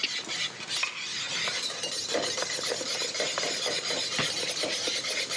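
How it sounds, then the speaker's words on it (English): Mashed potatoes with milk and butter being whisked in a pot back on the heat, a busy scraping and clinking of the whisk against metal that runs steadily throughout at close range, with no talk. "And then pop it back on the heat and then start whisking."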